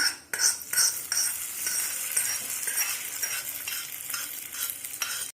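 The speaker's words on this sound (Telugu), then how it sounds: "ఇది పోపు మిశ్రమాన్ని చట్నీలో వేసుకుందామండి." A hot tempering of spices is poured into carrot chutney, giving a sudden sizzle that settles into a steady crackle, with a spoon scraping and clinking against the vessel while it is stirred in.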